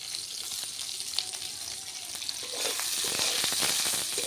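Small fish and the bulb ends of spring onions sizzle steadily in a shallow pan of oil, the crackle swelling louder partway through with occasional stirring clinks. No one speaks over it.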